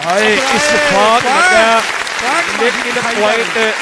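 Kabaddi match crowd at a rural tournament in Toba Tek Singh, Pakistan, clapping steadily in a dense wash of applause, with loud, continuous voices layered over the top throughout.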